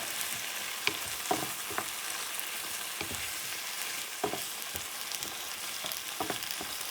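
Shrimp stirred and cooking in a pan give a steady sizzle with scattered scraping stir strokes on the pan, fairly close, with no talking.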